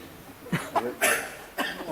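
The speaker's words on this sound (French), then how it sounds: "Et maintenant, vous toussez." A person coughs several short times in a row, with one or two sharper bursts at close range, over a quiet room.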